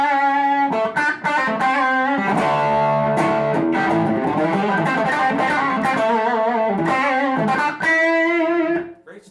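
A 1972 Fender Telecaster Thinline played on its bridge pickup through an AC Booster distortion pedal rings out in sustained, overdriven notes and chords, loud and close, with long, singing sustain as phrases fade.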